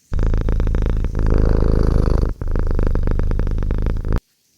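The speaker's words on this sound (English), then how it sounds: "The cat's purring has deepened." A cat purrs deeply in a quiet library room by a fire burned down to embers, a close, steady rhythmic rumble in two long stretches split by a brief pause, with no other sounds.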